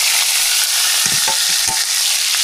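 Chopped onions dropped into hot oil in a village kitchen while making noodles, a loud, dense close sizzle with a few soft scraping stirs.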